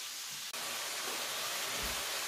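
Aubergines for karniyarik sizzle in hot oil in a pan, a steady close frying hiss that runs unbroken except for one brief dropout.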